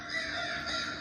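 A single crow gives one harsh, nasal caw that lasts about a second, clear and fairly close with nothing else around it.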